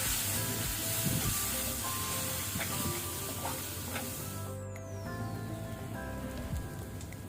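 Crushed black pepper and turmeric fry on a low flame, giving a steady, dense crackling sizzle with occasional stirring clinks.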